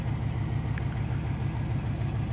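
A 1993 Chevy Suburban 1500 4x4 with a 5.7 liter 350 V8 idles steadily with a low, even, pulsing rumble, heard up close and alone.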